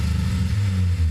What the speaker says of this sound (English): I want to hear some revs out of that thing.